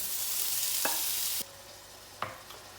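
Shallot and bacon lardons fry in olive oil in a sauté pan, a loud bright sizzle that suddenly drops to a quieter simmer, with a few soft utensil clicks and no voices.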